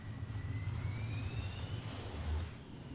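An airplane drones overhead in the Resident Evil Revelations video game, a steady broad engine roar with a faint rising whine, filling the whole stretch without talk.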